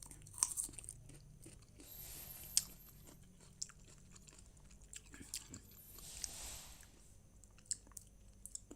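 Fruit being bitten and chewed close to the microphone, with faint, scattered crunchy bites and soft chewing clicks over a quiet background.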